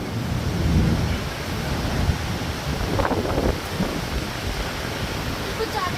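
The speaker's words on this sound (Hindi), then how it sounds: "बारिश, हाँ बहुत तेज आई है।" Steady heavy storm rain roars in a broad continuous wash, with muffled rumbles and faint voices under the downpour.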